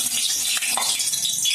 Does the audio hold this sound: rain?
no